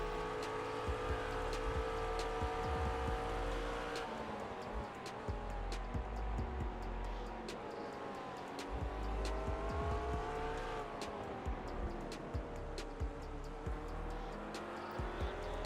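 A GT race car in the iRacing sim laps Silverstone with a steady, loud engine drone, rising and falling through gear changes, with bursts of tire squeal and no talk.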